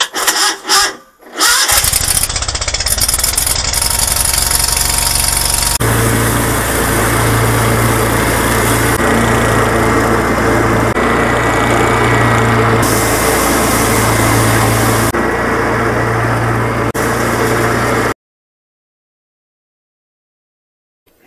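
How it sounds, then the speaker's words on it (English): A lawn mower engine starts with a few sputters, then runs loud and steady close by, holding a constant drone before cutting off abruptly to silence near the end. "Time to mow the lawn."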